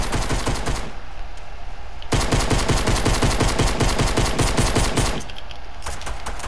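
Rapid automatic gunfire in the Fortnite video game, dense bursts of shots rattling continuously with brief pauses between volleys, loud and close with no talking.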